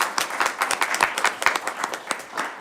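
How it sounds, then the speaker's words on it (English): A modest round of applause at a board of directors meeting, with a small group's individual claps distinct and irregular, fairly close and steady, and no talking. "I think this deserves a round of applause"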